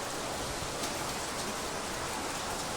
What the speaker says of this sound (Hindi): आज फिर हो रही है ओड़ों की बरसात, बहुत जोरदार देख सकते हैं आप।